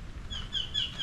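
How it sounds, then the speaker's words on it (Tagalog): Birds chirp by a quiet river, a string of thin high tweets repeating over soft steady outdoor ambience. "Wala kang maririnig kundi tunog ng ibon."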